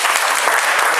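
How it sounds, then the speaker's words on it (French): An audience at an event, a New Year greetings gathering in France, claps in a dense, steady burst of applause that fills the moment, close and full, with no talk over it. "On peut l'acclamer quand même."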